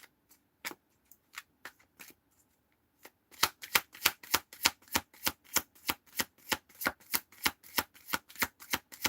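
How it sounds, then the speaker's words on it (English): Tarot cards being shuffled, a few scattered card snaps at first, then a fast, regular run of crisp close slaps as the deck is worked hand over hand. "Shuffle."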